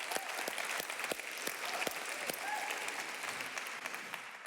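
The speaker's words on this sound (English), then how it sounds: "I want to give him a big applause for being here." Audience at a global health conference applauds a special guest, with steady, fairly faint clapping from many hands filling the room and a few sharper claps standing out.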